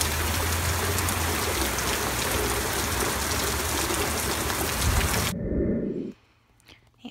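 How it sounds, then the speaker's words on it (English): Heavy rain pours steadily in San Diego as a dense, loud wash that stops abruptly near the end, leaving a quieter, near-silent tail. "That's the most rain that San Diego has seen in probably"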